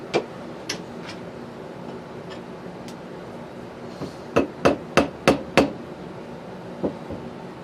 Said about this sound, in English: Maybe I can use a chisel.